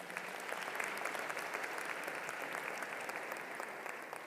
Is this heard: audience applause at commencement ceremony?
yes